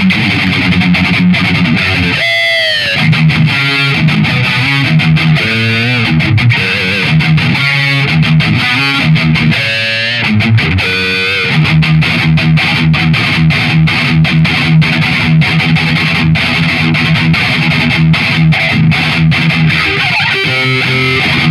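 Heavy metal electric guitar driven through a Solar Guitars Chug distortion pedal, playing tight, loud, chugging industrial-style riffs with palm-muted stops and bursts, sustained saturated tone throughout with no talking.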